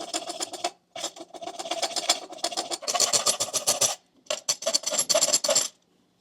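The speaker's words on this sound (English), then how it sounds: "So we're going to make a cut here with the hacksaw." Hacksaw cutting through a metal headlight guard for a Honda CRF300L Rally motorcycle, heard as rapid rasping back-and-forth strokes in several bursts, separated by short pauses, close and fairly loud.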